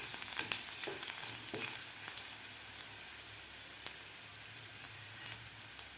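Turmeric and grated ginger fry in a pan while being stirred, giving a soft, steady sizzle with scattered light scraping clicks and taps, fairly quiet and without talk.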